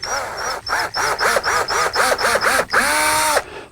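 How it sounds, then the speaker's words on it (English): A power drill whirs in short repeated pulses, spinning up and down while drilling a hole in a plastic Crescent kayak hull, then runs steadily for a moment before stopping; loud and close. "drill that hole."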